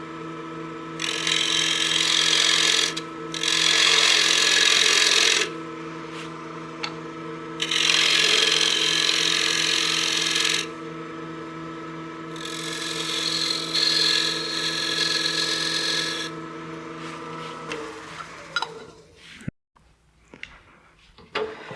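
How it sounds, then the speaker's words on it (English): Wooden utility box blank spinning on a woodturning lathe as a tenon is cut for the chuck jaws, with a steady motor hum and several bursts of hissing, scraping tool contact that come and go before the lathe winds down near the end. "now I'll cut my tenon for my chuck jaws."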